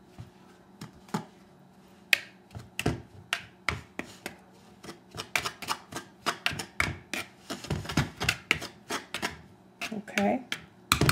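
Whole wheat flour, baking powder and salt are whisked together in a bowl for homemade tortillas, making sharp, irregular clicking taps that speed up into a quick ticking rhythm.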